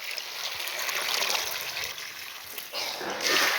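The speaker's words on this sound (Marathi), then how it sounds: "तिकडं नळ चालू ठेवलेला आहे मी" A garden tap left running onto soil, its water making a steady broadband splashing trickle that stays at a moderate level and swells louder near the end, with no talk over it.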